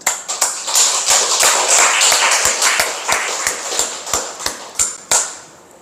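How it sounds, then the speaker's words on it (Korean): A church congregation at a Sunday worship service claps in a steady rhythm of sharp, close hand-claps, about two to three per second, loud and clear with no talking over them, then stopping near the end. "박수로 하나님께 영광 돌리겠습니다."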